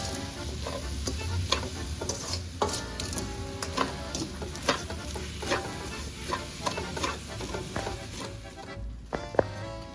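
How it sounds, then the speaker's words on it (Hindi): Seviyan barfi mixture being stirred and mixed in a pan, giving a steady scraping and sizzling with frequent sharp spoon knocks against the metal, close and continuous with no talk. "इसको अच्छे से जो है मिक्स करना है।"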